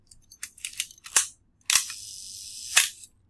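A camera shutter fires for a one-second exposure: a sharp click, a steady mechanical whir, then a second click about a second later, after several quicker clicks. It is close and clear, with no voices.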